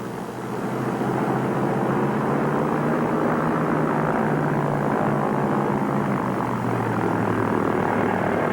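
A small plane's propeller engine drones loud and steady from start to finish in a 1950s jungle setting, a continuous rumbling hum with no pauses.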